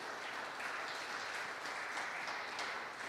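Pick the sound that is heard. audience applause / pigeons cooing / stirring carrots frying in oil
audience applause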